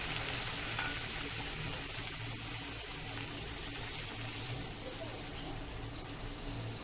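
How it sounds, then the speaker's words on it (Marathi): Two cups of hot water poured over sautéed vegetables for a winter veg soup, a steady rushing, bubbling hiss that runs throughout the whole stretch. "याच्यामध्ये दोन कप पाणी घालते मी"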